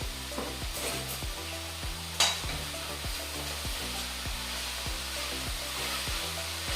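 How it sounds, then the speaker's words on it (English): Rice and peas being stirred in a pot, a steady scraping stir under a constant hum with a rhythmic low pulsing, one sharper clank partway through, no voices. "Give it a little stir."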